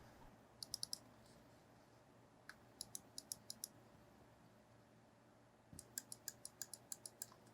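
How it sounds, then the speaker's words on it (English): Crisp mouse button clicks from a Model O Minus ultralight gaming mouse, quiet and close, coming in three short bursts of rapid taps over a faint steady background hiss. "Now we're going to be doing some ASMR clicks"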